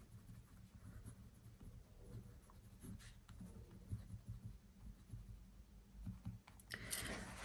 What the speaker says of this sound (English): So I'm gonna write new grocery schedule.